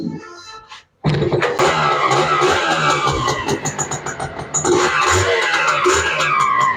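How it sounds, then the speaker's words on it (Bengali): A used Suzuki motorcycle engine, shown for sale in Chattogram, sputters briefly, cuts out, then fires up and runs loudly close by with uneven throttle surges and rough idling pulses. "গাড়ির সাউন্ডটা একটু শোনায় আপনাকে"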